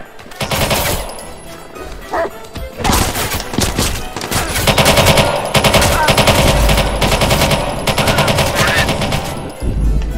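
Rapid automatic gunfire in a Watch Dogs 2 shootout, loud bursts and sustained volleys stacking over one another with brief pauses, plus a few heavier thumps.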